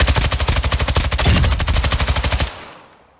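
Full-auto fire from a DMR rifle in Modern Warfare 2, a loud, rapid stream of evenly spaced shots for about two and a half seconds that cuts off into a brief fading tail.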